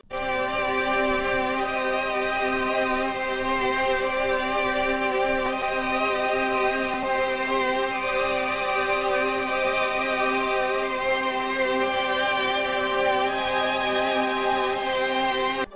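A steady, full-bodied hip hop type beat with layered melodic top notes and a warm low end, playing continuously at an even volume with no vocals.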